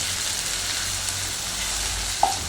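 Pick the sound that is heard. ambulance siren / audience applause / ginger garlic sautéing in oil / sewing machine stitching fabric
ginger garlic sautéing in oil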